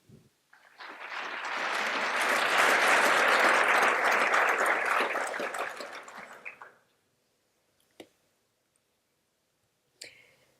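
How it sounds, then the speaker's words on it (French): Audience applause welcoming a guest speaker at an evening event swells into a full, even roar of clapping, holds for several seconds, then fades out, followed by a couple of isolated clicks. "je vous demande d'accueillir et d'applaudir le docteur Luciana Vaccaro"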